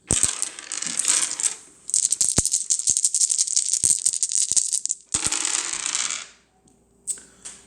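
Dice rattle and clatter across a surface in several bursts, bright and close-up, with short pauses between rolls.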